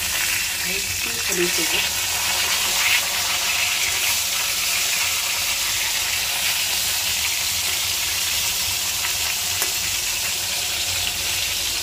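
Fish frying in hot oil gives a loud, continuous, close-up sizzle and hiss that holds steady for about twelve seconds, with no clear talk over it.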